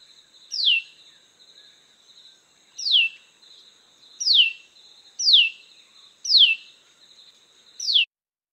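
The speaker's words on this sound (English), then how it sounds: "And then this is a tailor bird with its falling notes." Tailorbird gives a repeated series of six sharp falling notes at a steady, slightly uneven rhythm over a thin continuous high insect-like buzz, loud and close.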